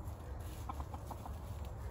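A rooster near hens gives a quick run of about five soft, evenly spaced clucks, faint beneath steady background noise.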